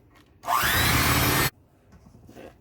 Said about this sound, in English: I'm going to go ahead and beat this again